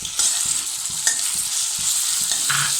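Chopped onion sautés in a pan for Gobi Manchurian, with a loud, continuous close-up sizzle and occasional soft scrapes of stirring, and no one speaking.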